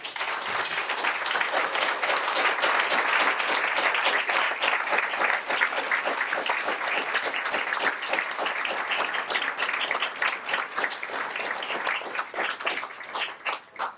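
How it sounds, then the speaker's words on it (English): Audience at a gala dinner applauds for standing clients, a full, sustained round of clapping for over ten seconds before fading out. "Would you be kind enough to stand up for a round of applause?"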